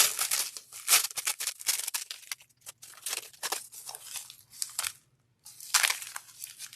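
Sticky bubble-wrap packaging paper crinkles and crunches in close, quiet bursts as it is handled and moved during an unboxing, with a brief pause partway through.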